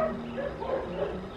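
Indoor dogs somewhere in the house give a short string of yips and whimpering barks, moderately loud and close, with no one speaking.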